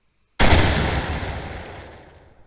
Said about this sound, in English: I will shoot at the server and it should be destroyed now.